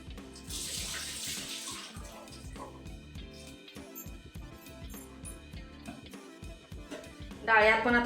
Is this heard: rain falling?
no